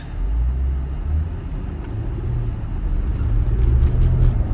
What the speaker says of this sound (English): I was waiting for that car to go.